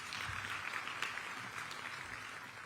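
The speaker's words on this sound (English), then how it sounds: "A round of applause." Applause from an audience at a diplomatic event in Addis Ababa welcoming a Kenyan official, a soft, distant, even wash of clapping.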